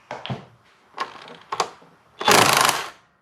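A socket wrench works a part in the engine bay of a Mercedes R107, a few short separate ratcheting bursts followed by one longer louder burst of clicks, close and with no talk.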